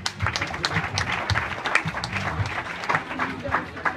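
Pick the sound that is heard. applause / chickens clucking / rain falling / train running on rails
applause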